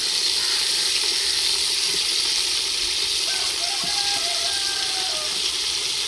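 Tomatoes go into a pot of frying oil for chicken biryani cooked outdoors, giving a loud, steady, hissing sizzle that stays even throughout, with faint voices in the background.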